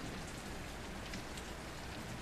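Steady rain falls in a film scene, a dense, even hiss of drops hitting surfaces that holds constant throughout, with no voices.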